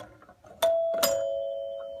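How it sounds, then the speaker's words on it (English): A working doorbell on a 1952 Royal Spartanette 35-foot travel trailer gives two loud chimes, a ding then a dong, each left to ring out with a long sustained tone. "Ding dong."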